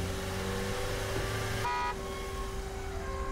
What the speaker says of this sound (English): Blow the horn at me.